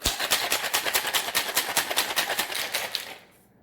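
Ice cubes rattle hard inside a cocktail shaker as a vodka martini is shaken, a loud, close run of rapid rhythmic clacks for about three seconds that stops abruptly.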